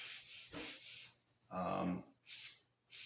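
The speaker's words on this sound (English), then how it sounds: "it's really easy to sand a lot of it away really fast" Sandpaper rubs across soft balsa wood in rhythmic back-and-forth strokes, each a close, raspy scratch, with a brief stretch of voice mixed in midway.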